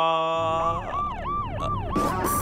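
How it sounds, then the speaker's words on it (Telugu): A wailing siren sweeps up and down repeatedly, loud and fairly close, with a brief burst of other noise near the end. "ఎక్కడో పోలీస్ హారన్ సౌండ్ వస్తుంది"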